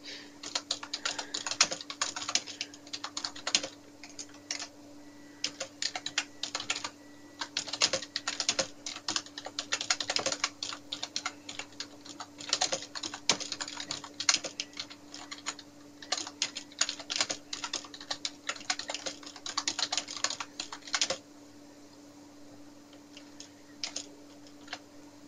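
Fingers type on a computer keyboard in uneven bursts of rapid clicking keystrokes, close and clear, with a few short pauses and a quieter stretch near the end; no one speaks.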